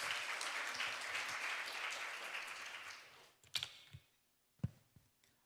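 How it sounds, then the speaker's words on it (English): At an international development conference, the audience gives a speaker a round of applause that runs dense for about three seconds, then dies away into quiet with a few scattered isolated claps and knocks. "So let's give a round of big applause for our second speaker"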